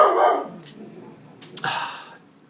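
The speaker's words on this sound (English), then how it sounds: "he's still barking" A dog barks twice up close, two short sharp barks separated by a brief pause, loud against a quiet indoor background.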